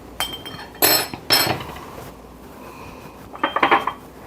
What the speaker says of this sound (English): Make sure you scrape off all that garlicky goodness